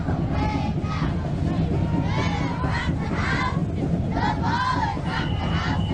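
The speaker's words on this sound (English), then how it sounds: "Man, those kids are loud and proud." The Bell Camp Ballers, a children's cheer team, shout together at a Christmas street parade, loud and continuous, with chanted calls rising over heavy crowd noise and a rumbling background.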